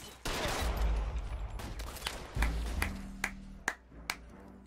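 Gunfire in the game L.A. Noire: a loud opening burst of shots, then a rough stretch with another blast midway, followed by three sharp single shots spaced out toward the end.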